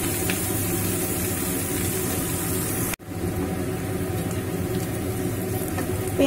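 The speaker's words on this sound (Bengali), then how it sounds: "পেঁয়াজটাকে আমি আগে ভালো করে ভেজে নেব।" Sliced onions fry in oil in a pan over a gas flame, giving a steady, even sizzle that briefly cuts out near the middle and then resumes, with no talking.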